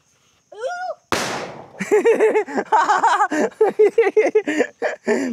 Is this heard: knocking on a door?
no